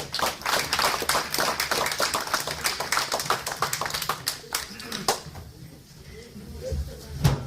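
Audience clapping at a hip hop and Black consciousness gathering, a dense burst of hand claps that thins out toward the end, with voices talking over it.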